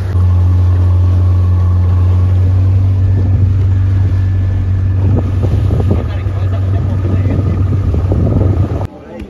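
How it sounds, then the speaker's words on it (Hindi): A motorboat heading to Playa Grande beach near Santa Marta, Colombia, throbs with a loud, steady low engine drone. Heavy wind buffets the microphone and water splashes and slaps against the hull, all close and continuous until the engine cuts near the end. "दोस्तों ये बोट लेकर एक दूसरे बीच पर जा रहा हूँ, प्लाजा ग्रांदे"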